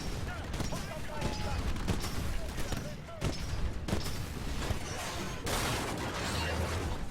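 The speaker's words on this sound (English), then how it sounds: "I'm going to shoot very purposefully and hopefully get some kills out of that." Bursts of rapid gunfire rattle through a shooter video game, with repeated sharp shots and crashes over a busy background where voices are also heard.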